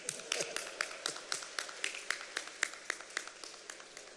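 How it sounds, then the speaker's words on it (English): Crowd applause at an awards event in Nigeria, a steady patter of many hands clapping at moderate distance, continuous with no talk over it. "A round of applause, please, for NERC."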